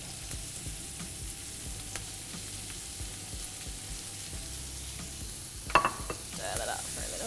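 Shallots and leek sizzle steadily in olive oil and butter for a casserole, a constant close hiss with a brief clatter of a utensil stirring the pan near the end.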